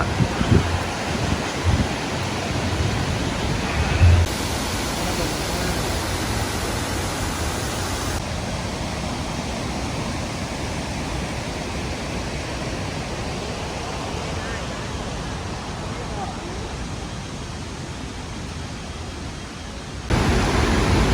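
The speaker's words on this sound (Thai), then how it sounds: "น้ำตกอยู่ข้างหน้าเรา" Tad Fane waterfall near Pakse, Laos, roaring as a constant loud broadband rush of falling water, steady from start to finish with no speech over it.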